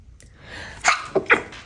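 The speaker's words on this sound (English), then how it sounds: "I feel like I gotta sneeze" A close, sharp sneeze, with a quick inhaled build-up followed by a couple of short explosive bursts.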